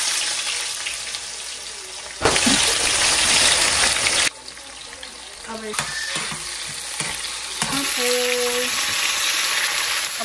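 Fish pieces frying in hot oil for a Nepali fish gravy, giving a steady sizzle with bursts of louder spitting and stirring, clattering utensil sounds and some running water in between.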